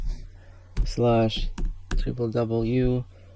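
A few scattered keystrokes on a computer keyboard running MX Linux, mostly masked by a voice talking over them.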